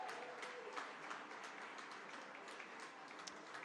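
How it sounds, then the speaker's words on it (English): Steady applause from an audience at a school alumni awards presentation, an even wash of many hands clapping, fairly faint and distant, with no talk over it. "Let's have a round of applause."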